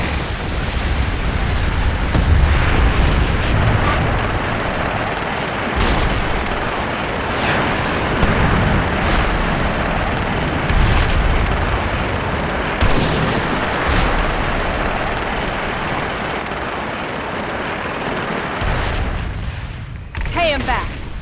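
Torpedo rockets slam into ships in World of Warcraft: Mists of Pandaria, a dense continuous rumble of battle with repeated heavy booms and blasts, loud and close, with voices faintly mixed in.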